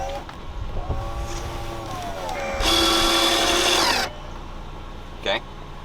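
A VW Beetle convertible soft top lowers with a steady electric motor whine rising in pitch, then a brief louder mechanical grind as the latch hooks and secures the top, followed by a short click.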